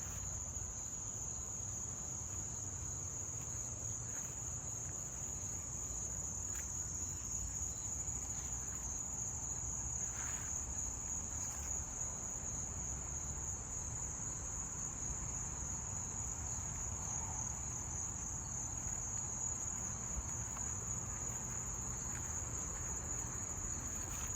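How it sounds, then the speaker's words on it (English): Dense, steady chirring of thousands of crickets in a garden fills the whole stretch, a constant high-pitched trill from many insects over low background rumble. "Here we have thousands of crickets."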